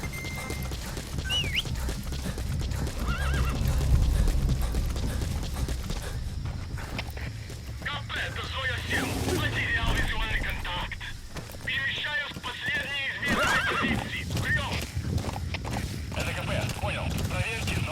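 A horse in the Metal Gear Solid V video game clip-clops along at a steady walking rhythm, with mechanical clicks and rustling on top and talk heard over parts of it.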